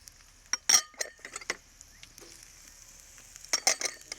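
Onions and peppers for sofrito are stirred in a pan, producing a few sharp clinks of the utensil against the pan over a soft sizzle, with pauses between strokes.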